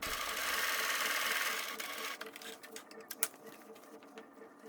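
A sewing machine stitching the corners of a fabric basket whirs steadily and close for about two seconds, then stops, leaving scattered clicks and light handling noises.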